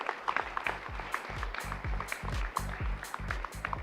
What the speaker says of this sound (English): a big round of applause again for our keynote.